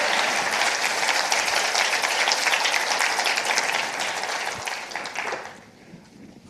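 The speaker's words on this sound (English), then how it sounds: "Let's give them one more round of applause." Dense audience applause fills a large room at a university community event, steady and loud before tapering off over the final second or so.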